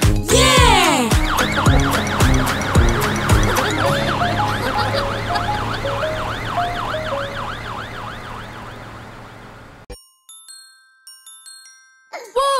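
A loud wailing fire engine siren in a children's cartoon sweeps up and down repeatedly, close and continuous, then cuts off and is followed by brief cartoonish sound effects.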